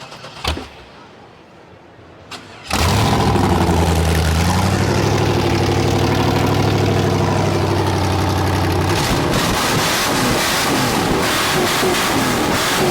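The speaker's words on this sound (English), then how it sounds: "Let's see if it'll start. It's my favorite part. And this is the first engine of the day" A car at a car show cranks with a short starter whir, then its engine catches with a loud roar and settles into a steady, rumbling idle close by, continuing strongly to the end, with flames from the exhaust.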